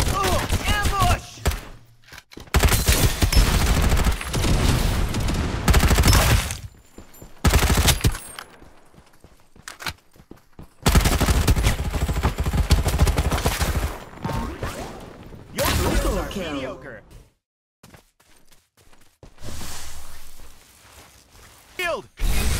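Rapid bursts of automatic gunfire and shots in the battle royale game Farlight 84, loud and close, alternating with short quiet gaps and thuds, with an in-game voice speaking between volleys.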